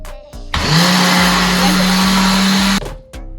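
Ninja blender whirring loudly for about two seconds as it mixes a peanut punch drink of milk and peanut butter, with brief clatter before and after.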